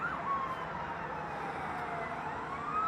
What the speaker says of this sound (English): we got a siren coming